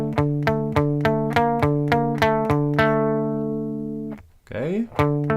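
Electric guitar playing measures of a song: a steady series of evenly spaced, plucked notes with strong sustained harmonics, close and clear, then a brief scraping slide before the picking resumes.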